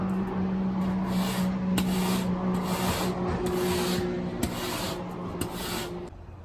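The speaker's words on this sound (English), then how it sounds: "I'm done with the rasp. I got everything nice and squared up, got the edges cleaned up." A rasp filing the wooden edges of a homemade foilboard, a steady close scraping rub in repeated strokes with a faint hum behind it.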